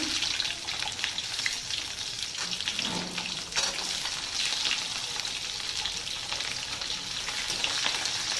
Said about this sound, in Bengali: কড়াটা গরম হয়ে গেছে, দিয়ে দেবো 5 ফোড়ন, তেজপাতা, গোটা রসুন